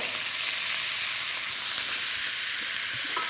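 Beef fillet dropped into a hot pan, a loud, steady hiss of sizzling fat that stays bright and continuous throughout, with a slight swell midway as the meat settles.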